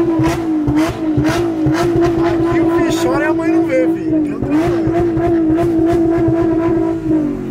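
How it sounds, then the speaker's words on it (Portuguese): A car engine bounces off its rev limiter, roaring at high revs near a ceiling with brief dips and surges as it cuts out, loud and close, while a voice talks over it. "tá um ronco assim que você acelera, mas você quer continuar acelerando"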